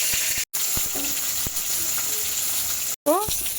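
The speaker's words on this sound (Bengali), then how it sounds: "মাছ ভেজে নেব।" Pieces of katla fish fry in hot oil, a continuous crackling sizzle with scattered sharp pops and a few brief clinks, with two short breaks in the sound.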